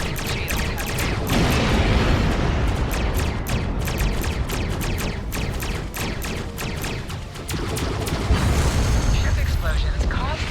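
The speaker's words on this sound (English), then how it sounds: "Ship explosions cause damage." Starships blowing apart in the Star Trek Online space combat game: a dense, continuous barrage of booming blasts and crackling bursts, loud and close, with a synthetic voice speaking over it.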